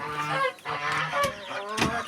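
Geese on a farm give several loud, nasal honks in quick succession, close by and with no voices.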